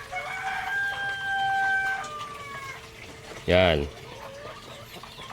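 Brown laying hens on a farm cluck softly, then a rooster lets out one loud, close crow midway, while a person talks over the flock.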